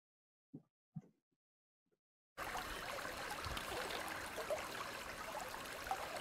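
A river in the countryside flows steadily, a broad rushing water noise that comes in abruptly after a few faint footsteps and then continues evenly and close throughout.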